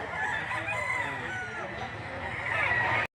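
A crowd of roosters and hens at a busy poultry market in Lipa City, Batangas, crow and cluck over one another in a dense, continuous din. Nearby voices murmur under the birds until the sound cuts off abruptly.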